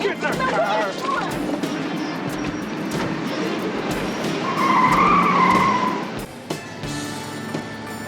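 A car drives off with tires skidding, a loud screech rising midway over engine noise, with voices and scattered knocks and clatter around it.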